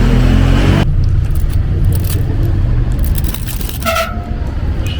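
A loud LRT train rumbles close by at Pasay station, a heavy steady roar with metallic squeals and a brief high tone near the end, some faint voices underneath.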